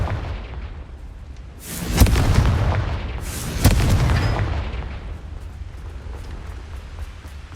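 Two heavy booming blasts from the Confringo fire spell in Hogwarts Legacy, about a second and a half apart, each with a long rumbling decay, loud and close.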